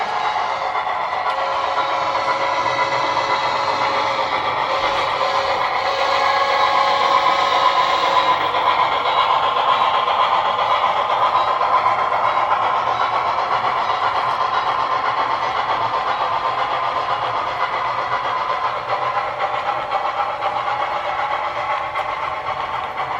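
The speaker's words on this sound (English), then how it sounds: "so that those on the platform can get a good look at the excursion train as it roars by." Excursion train roaring past a station platform, a steady sustained rumble and rail noise heard from nearby for the whole stretch without pause.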